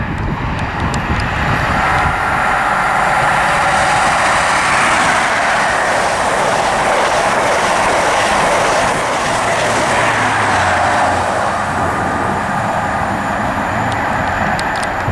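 An HST passenger train runs through Grantham station on the East Coast Main Line, a loud, steady rumbling roar with rail clatter that holds close and continuous throughout, swelling slightly midway, with no voices.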